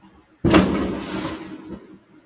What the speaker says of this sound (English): Oh, it's just fireworks outside